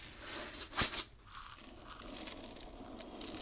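A hen nibbles organic pumpkin seeds: one sharp, close crunch followed by a softer bite, then faint, scratchy nibbling over a quiet, hissy background.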